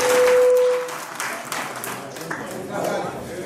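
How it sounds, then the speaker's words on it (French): At a French medicine handover ceremony, an audience breaks into brief applause for a team, light scattered clapping under a murmur of voices after a short tone. "On les applaudit."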